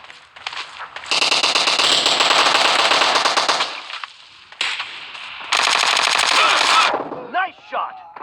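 Loud rapid automatic gunfire from PUBG Mobile, two long bursts of machine-gun fire separated by a short pause, followed by a few quieter scattered shots.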